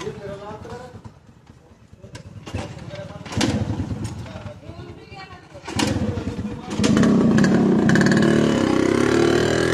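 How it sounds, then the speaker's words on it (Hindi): A Suzuki KB100 motorcycle modified to resemble an RX100 idles nearby with a steady low engine rumble that rises louder toward the end, while someone talks over it. "RX 100 कैसा साउंड आएगा पब्लिक देख लो"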